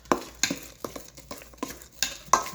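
Chocolate cake batter being stirred by hand in a bowl, a rhythmic series of close, soft scraping and tapping strokes repeating about every half second, with no talking.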